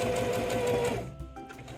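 A sewing machine stitches a fabric heat pillow in a steady whirring run close by, then stops after about a second, leaving faint handling noises.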